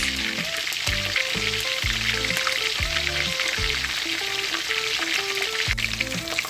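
Chicken wings deep-fry in a pot of oil with a steady, close crackling sizzle and some stirring sounds, and no talk over it.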